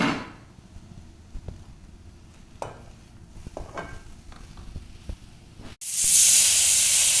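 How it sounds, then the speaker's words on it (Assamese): Grated carrots for carrot halwa cook in hot oil in a wok, with scattered scraping and knocking of stirring before a sudden loud, bright sizzle surges up near the end. "তেলখিনি গৰম হোৱাৰ পিছত তেনেদৰে গাজৰখিনি তাত দি দিছোঁ। এনেদৰে দি হোৱাৰ পিছত প্ৰায় এইখিনি 7 মিনিটমান সময় এনেদৰে ভাজি ল'ম।"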